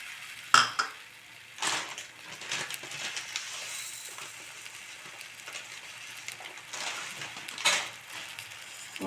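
Sugar tipped into a pan of sago kesari brings clinks and scrapes of a spoon against the metal pan, with soft pouring and stirring sounds between the louder knocks.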